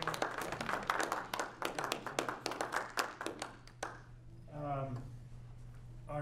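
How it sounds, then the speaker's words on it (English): A small crowd at a Kiwanis club meeting claps in a brisk burst of close, uneven hand claps that fades after a few seconds, giving way to a voice speaking. "So let's give Wendy another round of applause and let her sit down."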